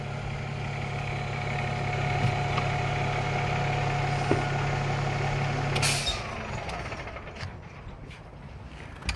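A fire ladder truck's engine idles with a steady low drone, then shuts off abruptly with a short hiss of air, leaving quieter background with faint clicks and rattles.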